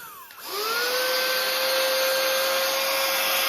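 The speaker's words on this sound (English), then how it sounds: "And I got this small vacuum. I got it personally for my couch, yeah, to be cleaning my couch." A small handheld couch vacuum cleaner switches on and spins up, then holds a steady high whine with a constant airy rush, close and alone.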